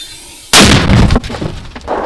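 A single loud, sharp artillery blast hits suddenly, followed by a rumbling, echoing decay that fades over the next second or so.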